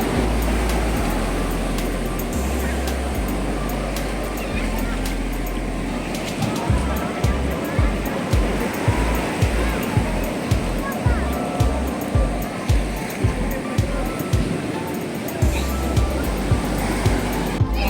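Steady rushing water from a wave pool at a water park resort in Cebu, with rhythmic surges and splashes building over a constant roar, heard close and fairly loud without talk.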